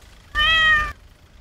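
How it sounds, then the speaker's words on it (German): A cat in a video game lets out a single loud, drawn-out meowing scream lasting about half a second, abrupt at both ends, with near silence before and after. "Wieso hat eine Katze geschrien?"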